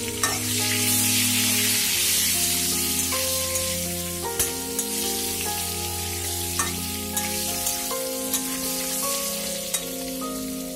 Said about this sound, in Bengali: নুন হলুদ দিয়ে ভেজে দিচ্ছি